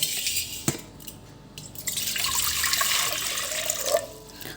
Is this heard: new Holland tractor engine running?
no